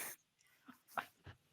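A dog indoors gives a few faint, close whimpers and sniffly breaths, spaced unevenly over a quiet background.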